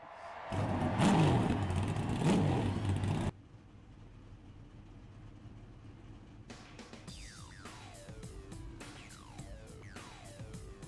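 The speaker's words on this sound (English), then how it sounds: "Drivers, start your engine." Race car engines in the iRacing video game start up for an eNASCAR All-Star Race, first a loud roaring burst, then after a pause a string of sharp revs rising and falling from several cars at moderate distance.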